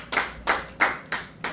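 A church congregation clapping together in unison, five strong, evenly spaced claps in a quick steady rhythm with no talking.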